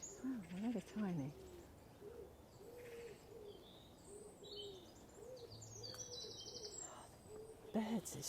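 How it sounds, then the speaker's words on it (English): Birds call during a nature walk beside water, soft repeated hooting notes in a steady rhythm against a quiet outdoor background, with faint higher chirps and a few brief bits of nearby talk. "Birds, it's just beautiful today."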